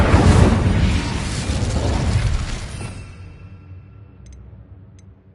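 An Incendio fire spell from Hogwarts Legacy bursts in a loud, roaring blast that rumbles for about three seconds, then fades into a quiet tail with a few faint clicks.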